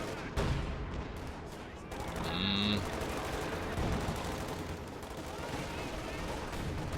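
Distant artillery shells thump again and again in a Company of Heroes 2 match as a white phosphorus barrage lands, with crackling battle noise and a short game alert tone in the middle.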